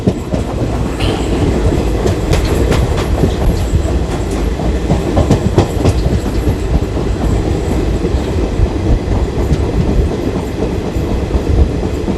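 West Coast Superfast Express sleeper train running near Kasaragod, with loud, steady rumble and rhythmic clickety-clack of wheels over rail joints throughout, no voices.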